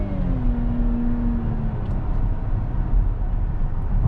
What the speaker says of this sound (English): Let's get on the throttle here a little bit.